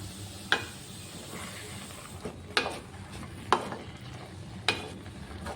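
Gongura leaf chutney mixture with tamarind and turmeric simmering in a pan, a quiet steady bubbling hiss broken by four sharp scrapes of a spoon at irregular intervals, with no talking.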